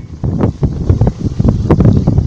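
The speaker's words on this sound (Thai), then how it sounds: "โอ้ลมแรงมากเลยดู ลมแรงครับ" Strong wind gusting by the Chao Phraya River during a fishing trip, with bursts of blustery buffeting against the microphone and rustling, close and fairly loud in uneven pulses.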